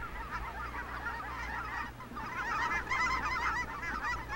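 Flock of migrating geese honking steadily overhead on the Pacific Flyway, a dense, continuous chorus of overlapping calls over a low background rumble.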